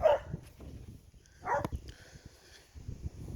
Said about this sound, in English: Excuse my dog, she's chasing birds.